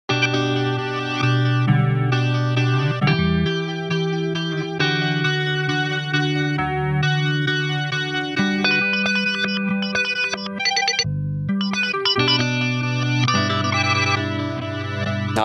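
Electric guitar played through an Onward pedal set to its error-stage preset, giving sustained, glitchy, chorus-like tones with stuttering pitch shifts and abrupt dropouts, steady and loud with no talking.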